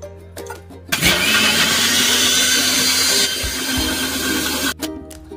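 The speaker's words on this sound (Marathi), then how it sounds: "मिक्सरला बारीक करून घ्यायचंय" A mixer grinder whirs loudly for about four seconds as it grinds coconut, ginger and garlic with a little water. It starts abruptly, keeps a steady motor roar with a slight drop partway through, then cuts off, with light kitchen clatter before and after.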